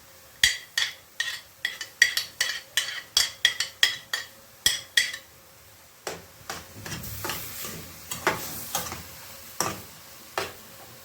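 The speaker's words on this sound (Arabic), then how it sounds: "هنبدأ ننزل بالبصل بتاعنا،" Onions tipped into a pan of browned chicken, layering a lasagna filling, give a run of sharp utensil taps and scrapes against the pan, then turn into a denser clatter over a steady sizzle as stirring goes on; no talk.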